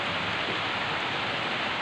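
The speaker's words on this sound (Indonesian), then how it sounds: "Hujannya sangat luar biasa." Heavy rain pours in a steady, dense roar, a loud continuous hiss of water striking surfaces close by, with no voices.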